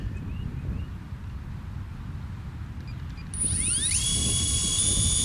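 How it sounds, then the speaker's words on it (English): The motors of a DJI Avata 2 drone spin up outdoors, a rising high-pitched whir that climbs quickly and then settles into a steady buzzing hum over a background of wind noise. "Motor started."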